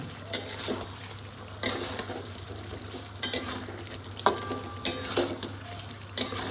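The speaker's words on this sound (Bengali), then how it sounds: "আমি বিউটিফুল একদম আস্তে আস্তে সমস্ত কিছু নাড়বো।" Potatoes fry and sizzle steadily in a pan over medium heat while a utensil scrapes and stirs them in slow strokes every second or so.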